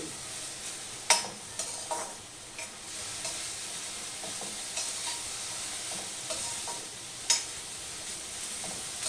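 Amaranth leaves and green chilli fry gently in a pan, giving a soft, fairly quiet sizzle with occasional louder stirring scrapes and taps against the pan.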